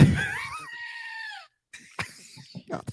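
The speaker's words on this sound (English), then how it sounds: "Yeah, was that a goat? It's a goat." A noise-making ornament lets out a loud goat bleat with a wavering pitch, held for about a second and a half and then cut off, followed by a brief silence and some scattered talking nearby.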